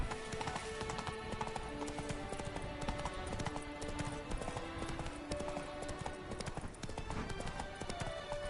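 Horse hooves clop steadily in the video game Witcher 3: Blood and Wine, a continuous galloping patter mixed under dense game music and ambience, moderately loud throughout.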